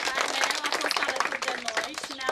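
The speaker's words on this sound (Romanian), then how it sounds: "Vrem să-l aplaudăm." An audience at a school folk event applauds a children's folk dance, dense bright clapping close by and continuous, with voices talking faintly beneath it.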